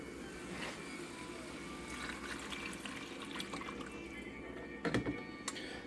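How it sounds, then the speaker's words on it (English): Water poured into a Ninja Combi cooker over browned ground beef and spices for Hamburger Helper, a steady close pouring and splashing wash with a brief louder splash near the end. "we'll add the water."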